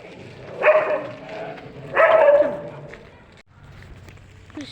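Tied-up dogs bark at a village roadside in two loud, close outbursts of barking a little over a second apart, followed by quieter background sound and a faint yelp at the close.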